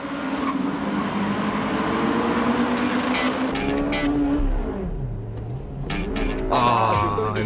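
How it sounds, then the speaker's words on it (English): Honda Civic Type R racing a light-tuned Altezza and a Celica on a circuit, engine revving hard and climbing through gears, with a downshift dip and a sharp burst of rev near the end, loud and close. "The battle with the Altezza and Celica at East Davis Circuit."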